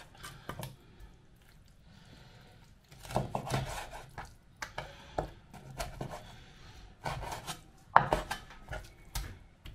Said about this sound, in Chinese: 顺着这骨头把这个肉剔下来就可以了。